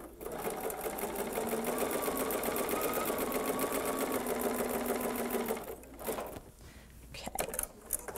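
A sewing machine runs steadily, stitching strips of jelly roll fabric together for a rug, its motor hum continuous and close for about six seconds before stopping, followed by quieter handling sounds.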